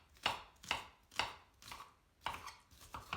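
A knife chopping onion into small pieces on a board, seven crisp, fairly quiet strokes at a loose, even rhythm, close up with no talking.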